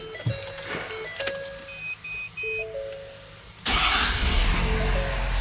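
A 2020 Ford F-350 with a non-working air-conditioning compressor: a few short electronic tones, then the engine catches and settles into a steady, loud, close running rumble that continues to the end.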